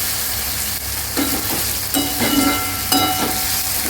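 Two medium-sized chopped onions sizzle steadily in hot oil in a pan, with a few louder scraping stirs of a spoon breaking through the continuous frying hiss.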